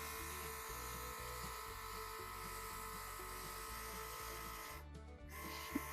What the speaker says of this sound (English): It's still an battery operated airbrush.